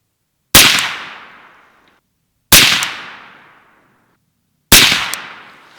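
Three 300 Blackout rifle shots fired with a 120gr Barnes TAC-TX supersonic hunting load, each a loud sharp crack about two seconds apart, trailing off in a decaying outdoor echo, with no talking.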